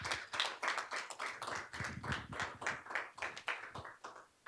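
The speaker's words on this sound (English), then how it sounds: "a big round of applause" Audience at a school board meeting clapping, a steady round of applause with many distinct hand claps close by, sustained without a break for several seconds.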